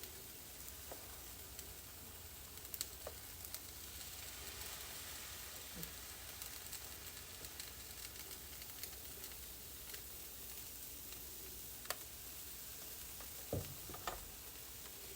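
Mixed berry pancake batter sizzling on a hot griddle, a continuous soft crackle and hiss with scattered small pops and a couple of louder clicks near the end, heard alone without talk.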